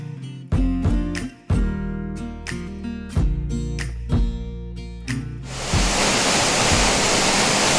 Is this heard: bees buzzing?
no